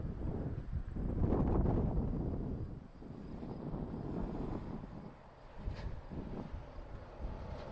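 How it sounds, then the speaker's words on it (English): A Porter Airlines Embraer jet landing at Toronto Pearson Airport, a broad distant engine roar that swells and fades under wind noise, with no talk. "Porter Airline is next, landing 120."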